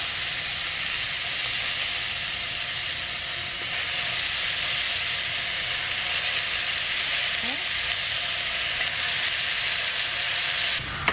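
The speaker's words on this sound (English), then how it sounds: "we're trying to get the juice out of it and get browned on the sides of this Portabella" A marinated portobello mushroom fries in sesame oil, giving a loud, dense, steady sizzle with a faint low hum beneath, close and constant throughout.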